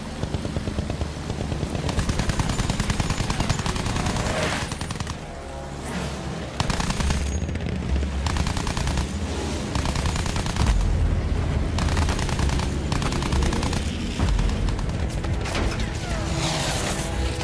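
Sustained machine gun fire rattles through a World War I battle in a shooter game, dense and loud, with bursts almost continuous for many seconds and occasional brief lulls, mixed with other battle noise and no talk.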